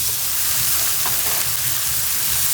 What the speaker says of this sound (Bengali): হালকা গরম করে পেঁয়াজ আর রসুন কুচানোটা দিয়ে দেবো